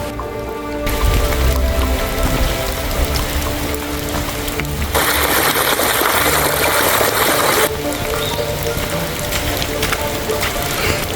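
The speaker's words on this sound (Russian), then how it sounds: "дождь пошел намного сильнее" Steady, dense mountain rain in Madeira pours down with a constant hiss that swells louder partway through, like a downpour drumming nearby.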